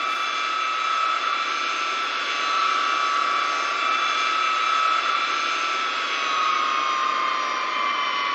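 Tupolev Tu-154 jet engines at takeoff thrust in X-Plane 11, a heavy airliner slow to accelerate, giving a loud, steady whine and roar that holds unbroken for the whole stretch, close and alone with no talk.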